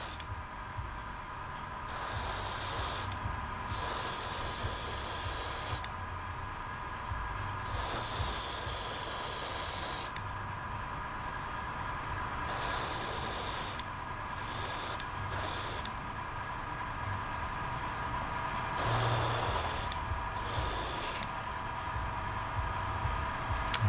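Color shift paint sprayed in a wet coat, heard as a series of hissing bursts of a few seconds each, separated by short pauses over a steady mechanical hum.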